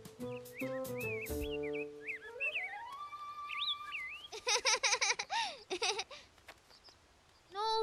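Small cartoon birds chirp and trill in quick whistled phrases with rising and falling tweets, bright and close against faint background music, with a voice briefly mixed in.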